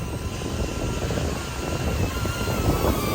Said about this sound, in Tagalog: Yan yung drone niya.